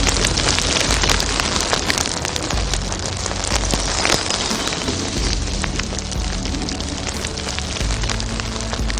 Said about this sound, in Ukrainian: Це шум дощу.